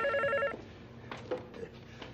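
A telephone rings loudly in a Turkish comedy sketch, one clear bell burst at the start followed by quieter room noise and a few faint knocks.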